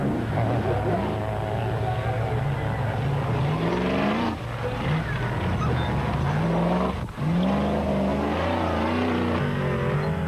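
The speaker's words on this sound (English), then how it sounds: "closing in fast was the super team Jeep of Piazza Musso and Abraham" Off-road race cars, including a Jeep, roar past at the 2002 Caledon 400 event, engines revving and rising in pitch as they accelerate through gears. A commentator talks over the loud, continuous engine noise.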